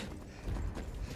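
A horse's hooves clip-clop in Skyrim, a few quick muffled thuds at moderate distance over a constant low game background, with no speech.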